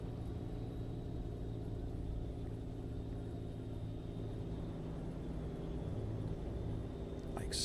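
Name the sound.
Kenworth K100 truck engine in American Truck Simulator video game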